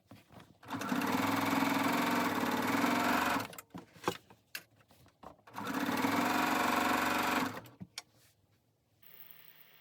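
A sewing machine stitches binding onto a table runner in two sustained, steady runs of rapid stitching, separated by quiet pauses with small handling clicks and fabric rustles.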